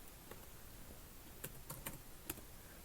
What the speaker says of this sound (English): Let's type Halloween.